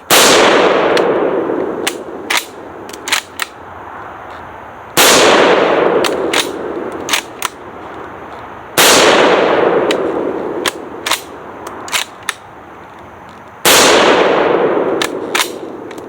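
A Spanish FR-7 rifle fires .308 rounds in four loud, sharp shots spaced about four seconds apart, each with a long echoing decay and followed by clacking bolt and metal handling sounds.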